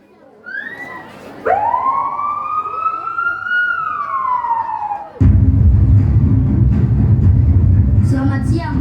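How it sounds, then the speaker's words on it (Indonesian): Police car siren wailing loudly and close, a rising then falling sweep lasting several seconds, cut off abruptly by a louder, noisy rumble that continues to the end. "tiba-tiba terdengar suara bunyi sirine polisi"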